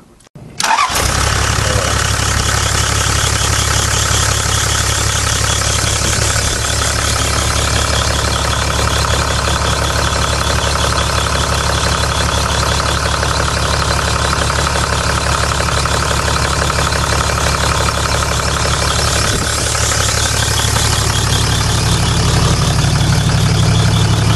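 A truck engine fitted with a hydrogen-oxygen dry cell gas generator starts abruptly, then idles loud and close with a steady, even rumble that continues unchanged to the end.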